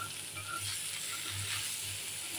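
Bitter gourd, cooked without potato, fries in a pan with a soft, steady sizzling hiss at low volume, continuous and unbroken.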